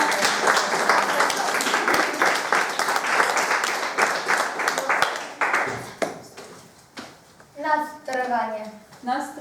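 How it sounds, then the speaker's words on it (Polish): An audience applauds performers at a school play based on Brzechwa's poems, a steady burst of clapping that fades after a few seconds, followed by a voice speaking. "może wielkie brawa dla wykonawców na zachętę"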